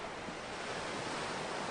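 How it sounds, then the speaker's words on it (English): Soft, steady ocean-wave rush as heard inside a conch shell held to the ear, a continuous hiss-like roar with no breaks, fairly faint and alone without talk. "I think I can hear the ocean."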